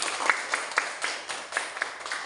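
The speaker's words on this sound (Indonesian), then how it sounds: "Ya, beri tepuk tangan buat Yoben." Brief round of clapping from students in a classroom, a small group applauding with uneven bursts of claps.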